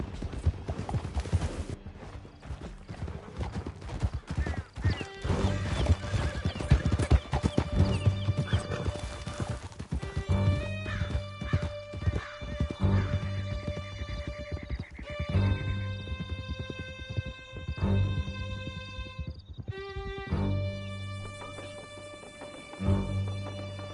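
Horse hooves gallop in a steady clip-clop through Red Dead Redemption 2, with whinnies and neighs breaking in over a dense layer of game music and ambience, loud and close throughout.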